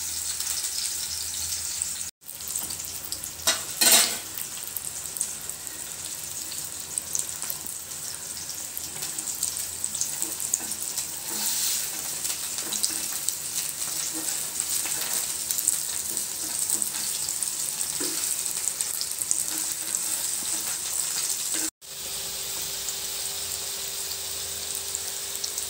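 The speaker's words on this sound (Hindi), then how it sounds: "लो फ्राई करना है।" Food frying on low heat in a pan, a steady broad hiss that runs almost unbroken for the whole stretch, with a few faint clinks and a brief drop in sound near the start and near the end.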